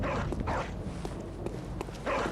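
A dog barks in the video game Bloodborne, with a few yappy barks at the start and again near the end over a steady, murky game background.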